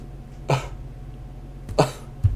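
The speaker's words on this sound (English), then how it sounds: "I got a little cough" Three short, dry coughs, spaced apart in a quiet room, the last one a little sharper.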